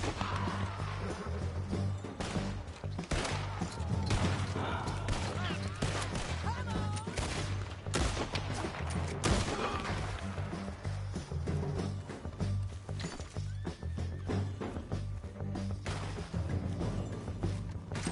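Gunfire in a video game firefight: repeated shots and crashing impacts are scattered throughout, mixed with speaking voices and a steady background rumble.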